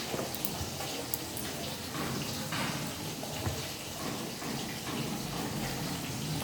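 Clothes are washed by hand under running water, a continuous rushing splash with scattered sloshes and wet slaps, fairly close and steady throughout.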